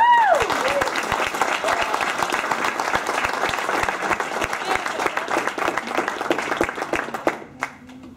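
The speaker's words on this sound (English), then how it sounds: "So let's give him a round of applause for it." A crowd at a fraternity anniversary banquet claps and applauds steadily for several seconds, fading out near the end, with a brief tone at the start.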